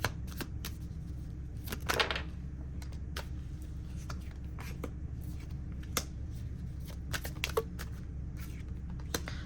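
Tarot cards handled for a reading, with soft riffles, quick card snaps and slides of cards being drawn and laid down, set against a low steady background hum and no talk.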